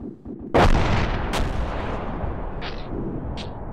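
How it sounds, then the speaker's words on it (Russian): A heavy cannon boom rings out and rumbles on in the ArmA 2 ACE game, followed by a second sharp blast and a few distant thuds in a noisy battle. "Пушка выстрелилась."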